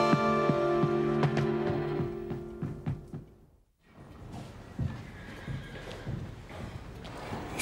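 A horse whinnies loudly with a long shaky neigh, then hooves clop and the animal shuffles nearby.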